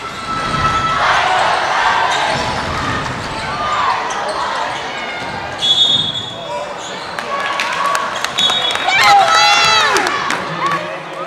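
A home crowd cheers and shouts at a girls' high school basketball game between the Girard Trojans and Colgan Panthers, with loud rising noise, a bouncing ball and squeaking sneakers on the court, under a commentator's voice.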